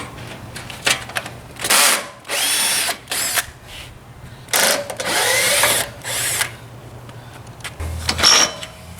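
A power drill pulls screws from an aging aluminum pool cage cross beam in short bursts of whirring, about eight spins of varying length separated by brief pauses, close and fairly loud.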